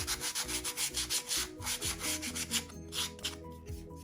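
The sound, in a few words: sanding rough wooden ship kit parts with sandpaper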